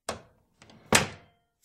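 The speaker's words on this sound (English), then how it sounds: "Close the door." An indoor door swung shut with a sharp thunk, then a softer rattle of the latch and a louder final slam, each hit decaying quickly into silence.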